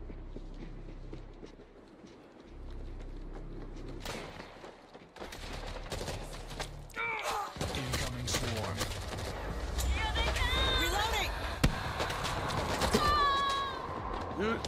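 Gunfire bursts and a grenade blast in a multiplayer shooter game, rapid crackling shots layered with dense battle noise and someone talking over the action.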